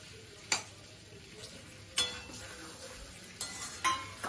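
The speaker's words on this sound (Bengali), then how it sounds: "আমি আলুগুলো দিয়ে দিচ্ছি কারণ মাটনটা সত্যি নরম হয়ে গেছে। আলুগুলো দিয়ে একটু জলও দিয়ে দেবো।" Potatoes and water being added to tender mutton cooking in a pot for a Bengali polao-mutton meal: four separate sharp clinks and splashy clatters, spaced apart over a soft, faint background hiss.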